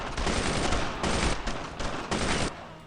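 Heavy bursts of gunfire fill a battle in the World War II game Brothers in Arms: Road to Hill 30, loud overlapping rifle and machine-gun volleys coming in dense waves with only brief gaps between them.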